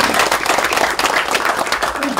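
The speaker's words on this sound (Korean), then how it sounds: "박수 한번 보내주십시오." Crowd applause at a Korean Democratic Party political rally, steady dense clapping filling the whole moment at close range with some voices mixed in.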